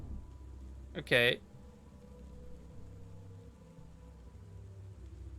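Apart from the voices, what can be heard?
rain and thunder in video game Lucifer Within Us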